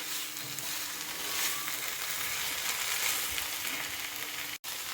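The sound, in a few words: frying ground dried dates for halwa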